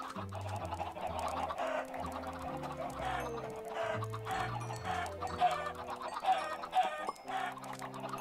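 Chickens clucking in the Minecraft video game, repeated short clucks over a busy layer of game music and effects, fairly loud throughout with no talk.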